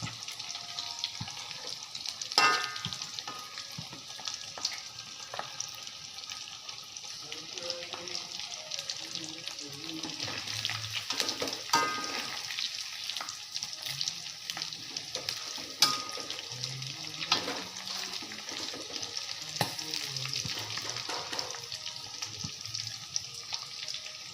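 Chicken frying in hot oil, a continuous busy sizzle with occasional scraping and stirring clatter throughout.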